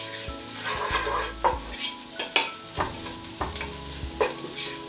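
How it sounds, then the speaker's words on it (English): Smoked paprika stirred briefly through chilli con lentil in a frying pan, a steady sizzle broken by several scraping strokes of the spoon at an uneven rhythm, close and moderately loud with no talking. "It's just a very quick stir"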